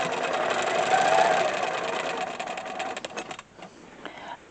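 Longarm quilting machine, a Unique 15R, stitching steadily with a continuous mechanical whir and rapid needle clatter that runs loud and close, then thins out toward the end.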